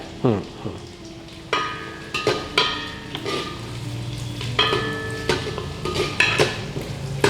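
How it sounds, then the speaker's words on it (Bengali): Chopped onions fry in a pan for an egg curry, giving a steady sizzle broken by repeated scraping and clinking stirs of a utensil against the pan, close and moderately loud, with no talk. "সবার প্রথমে আমি পেঁয়াজ কুচিগুলো দিয়ে দিচ্ছি।"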